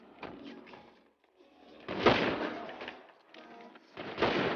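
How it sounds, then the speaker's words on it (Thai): Gunfire in the video game GTA, a few sharp bursts of shots cracking out in uneven clusters with short gaps between them, fairly close and moderately loud. "ไปผมโดนยิงพี่ผมโดนยิง"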